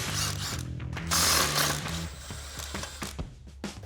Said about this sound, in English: We're going to switch to our 18 millimeter socket and take off our 2 nuts on the lower control arm for our strut.